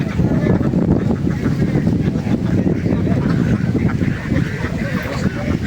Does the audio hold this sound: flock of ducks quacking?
yes